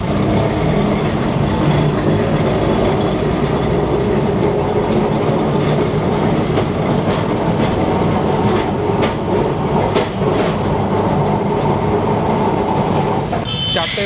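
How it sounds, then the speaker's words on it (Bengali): A Kolkata tram pulls away from Dharmatala toward Esplanade and runs on its rails, making a loud, steady rumble with rattling clatter that continues without a break. "একদম রাইট টাইমে আমাদের ট্রাম ছেড়ে দিল ধর্মতলা থেকে এসপ্ল্যানেডের উদ্দেশ্যে।"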